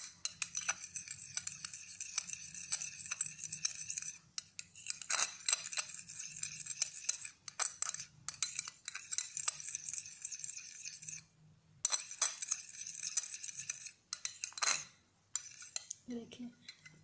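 A spoon stirs homemade dark-circle cream in a small bowl, giving rapid clinks and scrapes against the bowl in bursts, with short quiet pauses between rounds of mixing.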